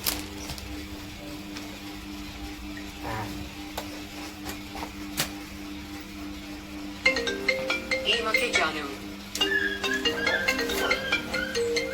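A mobile phone ringtone plays in a repeating electronic melody, at first steady under background noise, then turning into brighter, busier tones in the second half, fairly close and loud, as if from repeated calls.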